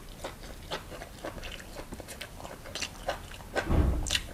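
Someone eats blanched fish with vegetables, with soft wet chewing and biting sounds close to the mic in an irregular rhythm, plus a louder bump near the end and no speech.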